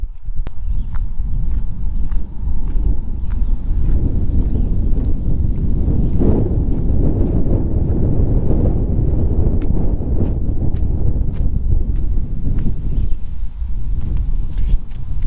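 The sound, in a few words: wind blowing, windy weather outdoors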